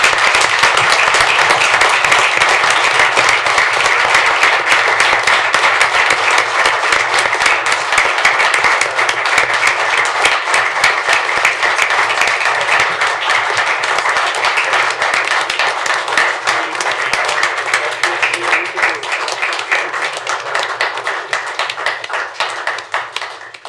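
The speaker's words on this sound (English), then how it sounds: "Can we give him a round of applause?" An audience at a city council meeting gives sustained applause. Dense, loud clapping runs steadily for over twenty seconds and eases only slightly toward the end.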